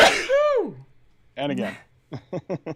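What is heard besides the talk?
sneeze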